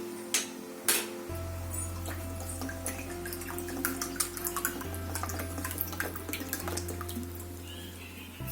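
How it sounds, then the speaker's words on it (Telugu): Water pours and trickles into sugar in a pot to make syrup, a quiet liquid splashing with a few small drips and clinks, close up against a low steady hum. "నేను ఎంతైతే షుగర్ తీసుకుంటున్నానో అంతే వాటర్ తీసుకుంటున్నాను."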